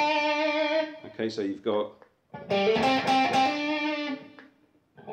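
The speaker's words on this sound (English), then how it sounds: "If we compare that to the other out of phase sound, which is with these two pickups working together." An Entwistle EST100 electric guitar with its pickups wired out of phase plays distorted notes and short chord stabs through a driven amp, sounding thin and nasal, with a pause mid-phrase and someone speaking briefly at the end.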